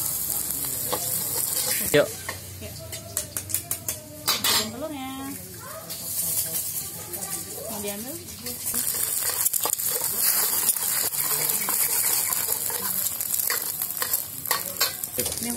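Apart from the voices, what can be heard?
sautéing shallots and garlic in a pan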